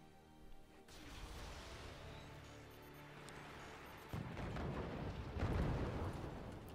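Artillery salvo in the siege-building game Forts, a dense run of booming launches and impacts that swells louder toward the end under a continuous rumbling bed of battle noise.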